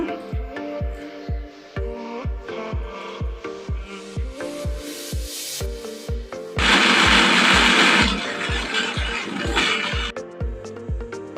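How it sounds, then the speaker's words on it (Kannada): A mixer grinder whirs as it grinds soaked rice together with chopped banana stem. It runs in a rhythmic, pulsing whine, then swells into a louder rough churning burst midway before easing back, with no voices. "ಅಕ್ಕಿನ ರುಬ್ಕೊಳ್ಳೋಣ ಫ್ರೆಂಡ್ಸ್. ಇದಕ್ಕೆ ಬಾಳೆ ದಿಂಡನ್ನು ಕೂಡ ಸೇರಿಸ್ಕೊಳ್ಳೋಣ."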